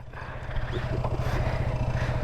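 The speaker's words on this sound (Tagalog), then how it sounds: "Katok na naman yung makina ko." A Honda ADV160 scooter engine idles with a rapid, regular knocking tick in its low rumble, close and steady for a couple of seconds, with no voices.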